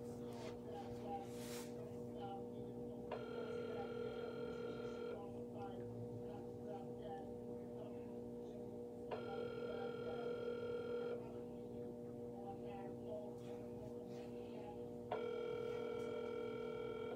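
An unanswered phone call rings out in three long electronic tones separated by pauses, steady and fairly quiet over a low constant hum, with faint background voices.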